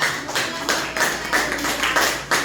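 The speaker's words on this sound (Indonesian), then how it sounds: "Berikan tepuk tangan." A school class applauds, steady clapping with rhythmic surges, close and fairly loud, with no talking over it.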